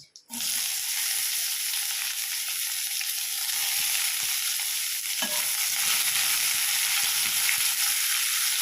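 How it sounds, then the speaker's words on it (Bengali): Chopped onion drops into hot oil with cumin seeds, a dried chilli and a bay leaf, setting off a sudden loud sizzle that settles into a steady hiss with light crackles and a brief clatter midway. "পেঁয়াজটাকে আমি 2 মিনিট ভেজে নেব"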